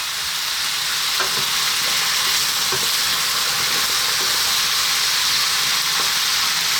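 Eggplant goes into a pot of frying vegetables for a vegan stew, and a steady loud sizzle and hiss fills the whole stretch, with a few faint stirring knocks near the start.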